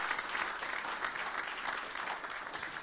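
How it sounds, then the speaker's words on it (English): Audience applause at a national convention, a continuous wash of clapping from a large crowd, moderately distant and fairly quiet, steady throughout without talk. "Ladies and gentlemen, a bigger round of applause,"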